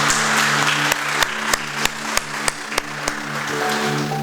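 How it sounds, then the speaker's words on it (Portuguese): A church congregation applauding steadily with a dense wash of clapping, over a sustained musical drone and a regular beat of percussive hits. "Você pode dar uma salva de palmas para o Senhor?"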